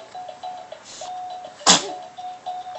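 A single sharp sneeze bursts out, loud and close, against a quiet room with a faint steady tone in the background.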